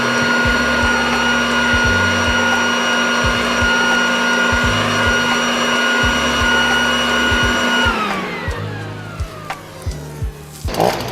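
A Stihl leaf blower runs at a loud, steady whine close by, blowing dry leaves, then drops in pitch and winds down near the end, leaving a few knocks and rustles.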